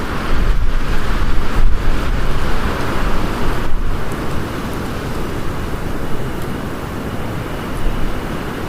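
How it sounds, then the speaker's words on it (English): Rushing floodwater and mud pour down city streets in a Los Angeles storm, a loud, steady roar of churning water that holds without pause throughout and carries no voices. "the deafening sound of rushing mud crashing down the streets"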